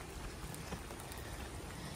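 Steady rain falls at a homestead farm campsite in South Carolina, a dense, even hiss of drops on surfaces close by with no talk over it.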